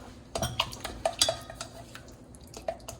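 A spoon stirs canned pumpkin pie filling in a bowl, giving soft wet scrapes with a few light clinks against the side, quiet and close.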